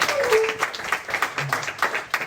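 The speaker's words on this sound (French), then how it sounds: "On va acclamer encore le Seigneur" An audience applauds at a worship song dedication event, with rapid uneven clapping held steady and moderately loud through the short stretch, plus a few brief voices mixed in.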